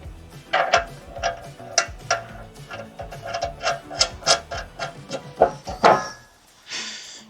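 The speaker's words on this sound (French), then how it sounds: "on va venir mettre la première vis ici, des vis toujours en inox pour éviter la corrosion" Stainless steel screws driven into the outer left door of a Mercedes Sprinter van, producing a run of quick ticking, clicking driver bursts with brief whirring, close and moderately loud.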